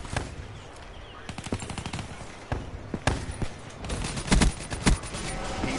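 Gunfire in a video game match, a close burst of sharp shots in irregular clusters that thicken toward the end, with no talk over it.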